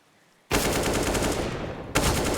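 Rapid automatic gunfire from the game Counter-Strike on the Inferno map during a professional tournament match, bursting loud and dense, briefly easing, then resuming sharply.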